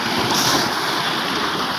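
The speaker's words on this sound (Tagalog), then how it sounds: "Lakas ng alon guys oh." Strong ocean waves around a fishing boat out at sea, a loud continuous wash of water and wind rushing against the microphone, no voices.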